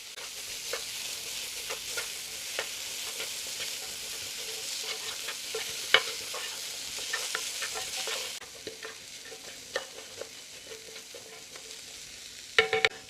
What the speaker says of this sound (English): Once your spices have been fried, add in your onions. Give this a good mix.